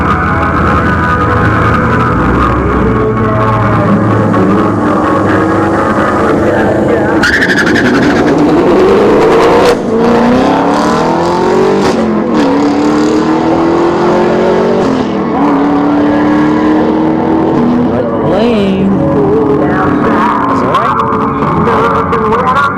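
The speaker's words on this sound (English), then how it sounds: "we got the Boss 302 and the Camaro SS" A Ford Boss 302 and a Chevrolet Camaro SS drag race at a dragstrip, engines roaring loud and close as they rev and pull through rising gear-change sweeps, with announcer-like talk over them.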